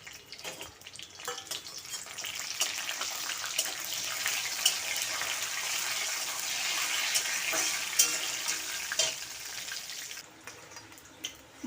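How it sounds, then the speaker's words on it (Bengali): Dried red chili, bay leaf and five-spice seeds fry in oil for a kochu flower dish, making a steady close sizzle with light stirring taps and scrapes throughout. "এবার মশলাটা আমি ভালোভাবে ভেজে নেব।"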